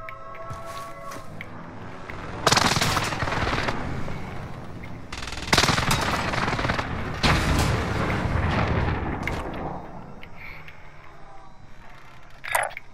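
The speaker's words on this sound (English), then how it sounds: "Enemy precision airstrike, take cover." An enemy precision airstrike in Call of Duty: Modern Warfare brings a dense barrage: repeated heavy booms and bursts of machine-gun fire over a constant roar of battle, with several loud impacts spaced a few seconds apart.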